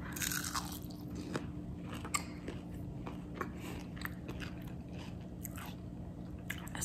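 Someone bites into a shrimp and chews it up close, with soft repeated crunches and wet chewing sounds over a steady low background hum.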